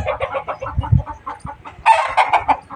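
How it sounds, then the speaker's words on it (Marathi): Chickens cluck in short, choppy bursts nearby, with one sharper, louder squawk partway through; no one speaks. "कोंबड्या सोडल्यात बघा."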